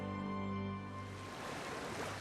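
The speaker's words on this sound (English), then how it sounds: "The sound of rushing water, the crashing of rapids, the sheer force and power of millions of gallons of water falling to the depths below." Rushing water and crashing rapids at Niagara Falls make a steady broadband roar that takes over as a brief tonal sound at the start fades away.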